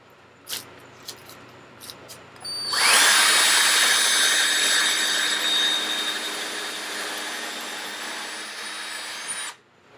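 A power drill bores through two stacked layers of wood for a handmade farmhouse kitchen light fixture, running loud and steady for about seven seconds after a few faint taps, then cutting off abruptly.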